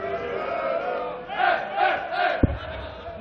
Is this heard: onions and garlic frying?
no